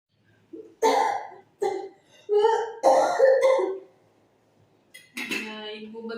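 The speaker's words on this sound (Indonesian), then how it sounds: "Coba Ibu batuk sedikit." A female patient coughs several times in short, separate bursts during chest physiotherapy and effective-coughing practice, close and moderately loud, followed by a brief clearing of the throat.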